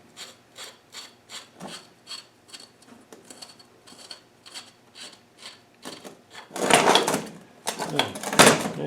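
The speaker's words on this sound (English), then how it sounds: "let's unscrew this" Screws are unscrewed from an R380 LT77 gearbox extension housing during a rebuild, a series of short, evenly spaced ratcheting clicks close up, ending in louder scraping and rattling metal handling.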